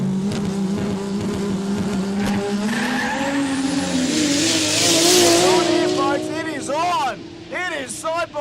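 Drag racing cars at a no-prep street day doing burnouts to warm their tyres, engines roaring and revving with screeching tyre squeal, loud and close, while a commentator talks over the noise.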